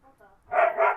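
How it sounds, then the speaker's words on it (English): A pet dog gives a short, loud bark or two close to the microphone, heard briefly on its own after a faint whimpering lead-in. "There was a dog barking."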